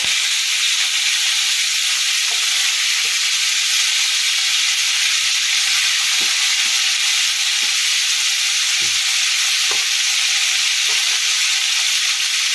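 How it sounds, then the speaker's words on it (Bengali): Steady, loud sizzling of potatoes and spring onions frying in a pan, with occasional soft scrapes and knocks as they are stirred; no voices. "আবার ভালো করে নেড়ে চেড়ে নেবো"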